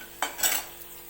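Potato bhaji fritters are lifted out of hot frying oil with a metal utensil, giving two brief close clinks and scrapes against the pan over a faint sizzle.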